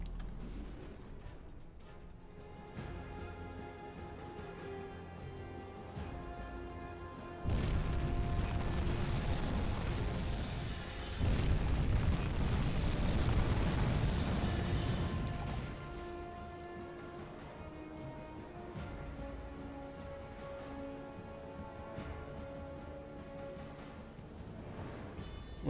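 Torpedo explosions striking a tanker in the UBOAT submarine video game: a long, heavy rumbling blast that rises suddenly and holds for several seconds under a steady game music bed, then fades back.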